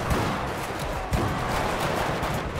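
Gunfire from 12-gauge shotguns in the GTA V video game during a gang war, a dense burst of loud overlapping shots and booms filling the whole moment, with a sharper blast about a second in.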